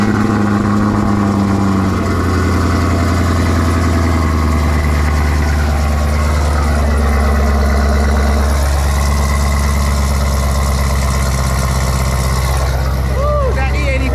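A Chevrolet Camaro ZL1 V8 running on E85 idles after starting, with a loud, deep, steady rumble close by throughout and a brief shift in tone partway through.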